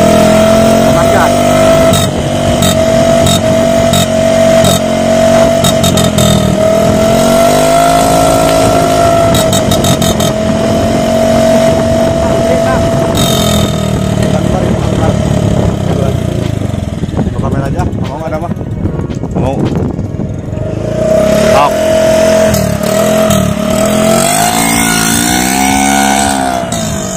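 A CVT scooter-style motorcycle fitted with a Bobokan Hiung aftermarket exhaust (MP7 regulation spec) revs loudly and continuously nearby, with rising and falling engine pitch throughout while people talk over it.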